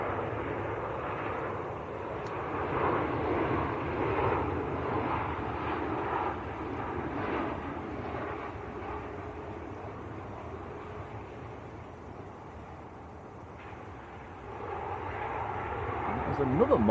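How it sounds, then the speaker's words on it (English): A Ryanair airliner on final approach at Manchester Airport makes a broad, moderate engine rumble that rises and fades gently, heard at a distance and growing louder at the end, with a voice talking over it. "Oh, another Ryanair on finals, and then we've got Air France about to line up."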